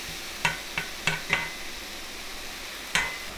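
Onions and garlic sauté in a skillet over a constant low sizzle, while a spoon scrapes and clinks against the pan in several short, distinct strokes, with no talking.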